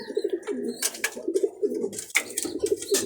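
Young banded birds, racing pigeons, coo softly and repeatedly at close range, with a few brief chirps and rustles between the calls.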